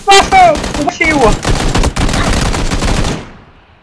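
Rapid gunfire in the video game PUBG, with loud close bursts of automatic shots crackling for about three seconds before cutting off, while excited voices shout over the opening moments.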